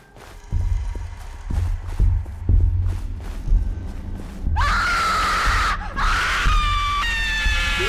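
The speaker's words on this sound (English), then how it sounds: "Look at the animation when he's screaming!" Tinky Winky monster screaming in the Slendytubbies horror video game: loud, sustained shrieking bursts that rise sharply midway, following heavy thudding footsteps and low rumbles.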